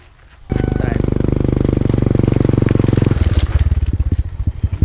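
A motorcycle engine nearby bursts to life loudly and runs with a steady, rapid pulsing rumble, then turns rougher and more uneven, with irregular putters and knocks toward the end.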